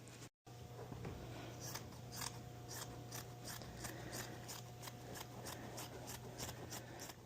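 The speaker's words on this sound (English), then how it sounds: "we'll just trace around it with the scissors and cut that out" Scissors cut fabric while a sundress is sewn, a quick steady series of faint, rhythmic snips over a low constant hum in a quiet room.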